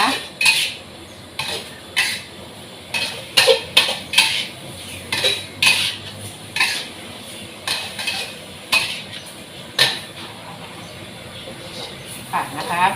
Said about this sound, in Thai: คลุกเคล้านะคะปลาดุกนะคะให้มันเข้ากับเครื่องแกงนะคะ